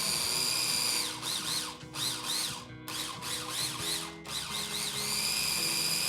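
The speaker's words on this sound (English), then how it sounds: "we're going to grind it until it is a paste" A food processor grinds peanut sauce ingredients with brown sugar and salt into a paste for gado gado, making a loud, close, whirring motor drone that dips and surges in pulses, with brief cut-outs between bursts.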